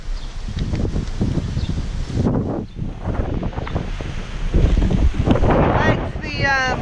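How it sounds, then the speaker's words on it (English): Strong wind on Maui near a pool by the beach buffets the microphone in a steady, rumbling roar that swells and eases throughout, with some voice sounds mixed in. "Quite windy here in Maui, but it's really warm."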